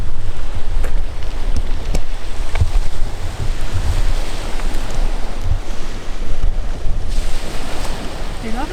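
Waves wash onto a beach with a steady, loud surf rush and a low rumble, mixed with wind buffeting on the microphone and a few faint knocks, and no clear talk.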